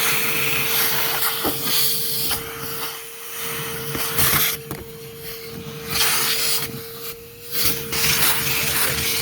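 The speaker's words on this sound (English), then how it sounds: "you're not just running the vacuum over it" A Ridgid dual 18-volt vacuum runs close up as it pulls dog hair from a surface, a steady motor whine under rushing airflow that rises and falls as the nozzle is pushed and lifted.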